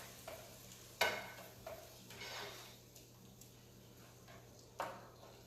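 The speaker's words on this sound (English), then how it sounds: "we're going to let that boil, keep stirring it." Shrimp scampi sauce made with wine bubbles in a pan while being stirred, a soft close sizzle broken by a few utensil clinks and scrapes against the pan, no talking.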